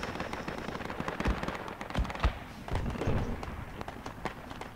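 Video game battle gunfire near a hill: steady, dense crackle of rifle and machine-gun shots at mid distance, with a few louder close bangs standing out from the continuous rattle.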